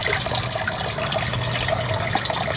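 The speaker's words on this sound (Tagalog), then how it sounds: "Ito yung tubig na lumalabas." Water pours steadily from the outlet of a homemade crayfish pond, a continuous close splashing and trickling with no talking.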